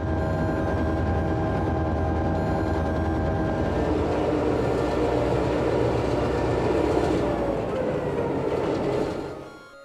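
An unturbocharged EMD 567 diesel locomotive engine rumbles loud and steady, close by, with a deep throbbing drone and rail noise for nearly ten seconds before fading out at the end.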